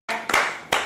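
A couple of people clap their hands, three sharp, close claps spaced unevenly within a second, with nothing else around them.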